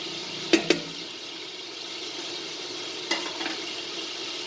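Canned and fresh tomatoes go into a pot for vermicelli chorba soup, where onion and garlic are already cooking, giving a steady sizzling hiss throughout with a couple of sharp knocks from the pot and spoon as the mixture is stirred.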